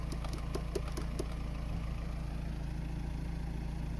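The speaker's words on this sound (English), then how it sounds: "You see the contact, you can hear it clicking." An Audi A5 main relay contact clicks several times in quick succession during the first second, then falls quiet, over the steady low idle of a running car engine nearby.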